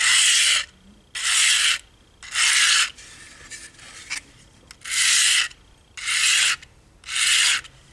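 A blade rasps back and forth across a 600-grit diamond hone in seven long, even strokes with short pauses between, a bright gritty scraping close by.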